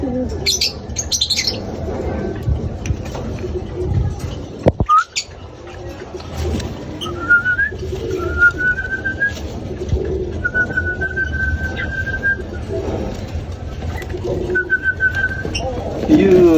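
Pigeons coo and whistle faintly during a summer derby race, with soft bird calls over a constant background rumble and people talking nearby.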